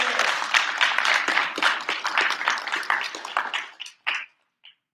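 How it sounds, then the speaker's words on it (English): An audience at a live fan convention gives a dense round of applause, loud continuous clapping that swells and fades, then dies away into a few last scattered claps. "Give him a round of applause, everybody."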